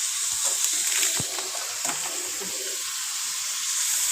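Water hisses and splashes steadily into a pot of fried golden chicken leg pieces for biryani, a continuous sizzling gush throughout with a few brief clinks.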